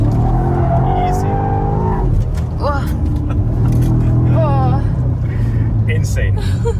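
A BMW M5 G90 sport sedan drifting on tight roads roars under hard acceleration, with loud, sustained engine howl and rising and falling revs close by, while someone talks excitedly over it inside the car.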